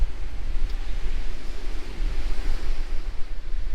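Sea waves on the East Coast at Withernsea on the Holderness Coast, a loud, continuous surf rumble with wind buffeting the microphone, close and steady throughout, with no voices.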